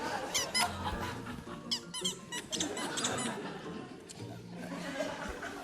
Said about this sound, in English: You've got some very squeaky chairs.